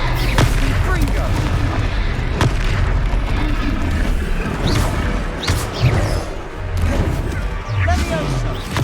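Fiery Confringo blasting spells in the Hogwarts Legacy video game, loud booming impacts and crashes repeating through a dense, continuous battle din, with voices shouting over the fight.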